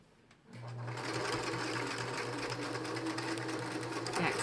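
Sewing machine back stitching through the layered pleats of a fabric protective face mask, a steady, close, continuous motor whir that starts abruptly after a brief quiet and runs unbroken to the end.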